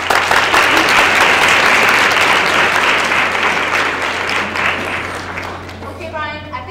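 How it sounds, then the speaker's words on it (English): Audience applause at a middle school theater presentation, a loud, dense burst of clapping over a low hum that fades gradually, with a voice speaking as it dies away. "let's give them a round of applause"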